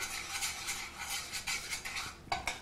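Flour being stirred into a brown sauce for a roux, a utensil scraping and clinking steadily against the pan at close range, with no voices.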